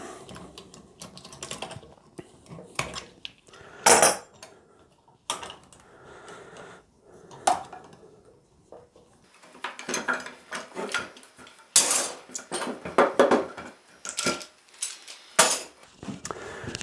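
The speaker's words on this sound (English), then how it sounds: "So we'll just start getting all these clamps off" Metal clamps taken off a freshly glued guitar body, scattered clicks, clacks and metallic knocks in uneven bursts close up, with quiet pauses between.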